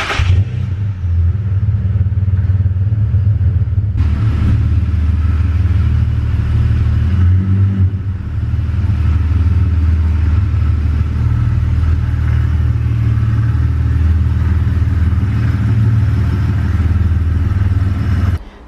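A car engine rumbles loudly and steadily throughout as the car is driven and maneuvered into a parking spot indoors, with a slight shift in engine note partway through and no talking.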